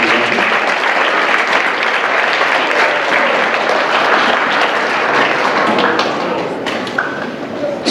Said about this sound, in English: Round of applause for our Rotary Club.